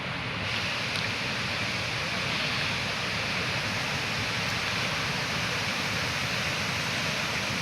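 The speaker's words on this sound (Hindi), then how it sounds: "जंगल भितर झरना पाखे" Hidden waterfall inside a forest near Rourkela, a loud, steady, continuous roar of rushing water filling the whole clip with no talk.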